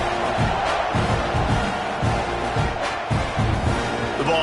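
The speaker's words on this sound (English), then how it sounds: "this crowd is buzzing after that last score" A stadium crowd at a college football video game matchup between ASU and Texas A&M keeps up a dense, loud buzz with pulsing swells and rumbles that fill the whole stretch.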